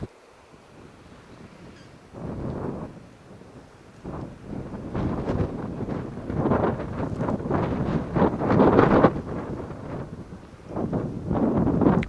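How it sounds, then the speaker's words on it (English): Gusty wind buffeting the microphone on a hilltop during a late-fall ATV ride, loud low roaring bursts that swell and fade irregularly, with no voices. "I put the mic on for this one, guys, because the wind up here is crazy"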